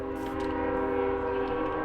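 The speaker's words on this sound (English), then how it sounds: "and the train is passing by." A train in Minecraft passes with its horn sounding, a steady, loud, droning tone with layered harmonic pitch that holds throughout, with no talk.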